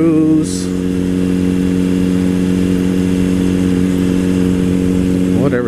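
Two sport motorcycles, a Honda CBR600RR and a Suzuki GSX-R600, cruise together with a steady, loud mid-pitched engine drone and a rising rev near the end; a voice talks over the engine.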